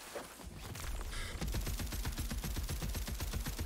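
Rapid bursts of gunfire from a legendary gun that fires four projectiles per shot in Tiny Tina's Wonderlands, a dense, steady string of loud close shots following a short quieter lead-in, with no talk.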